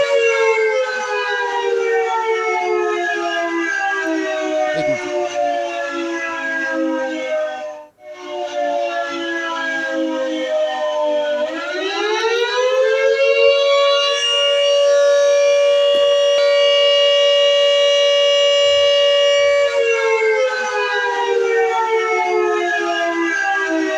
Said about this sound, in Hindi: हरियाणा के पंचकुला में भी सायरन बज रहे हैं